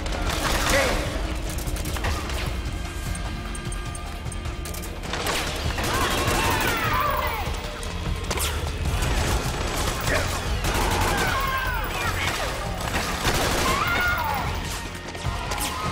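Gunfire in the video game Metal Gear Solid 4, dense and continuous with crashing impacts and rapid shots layered together, loud throughout, with faint voices mixed in.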